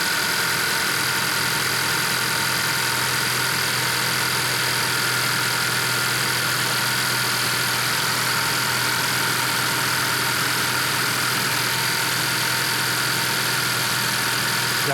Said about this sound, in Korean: 역시 혼다밖에 엔진 소리는 굉장히 부드럽습니다.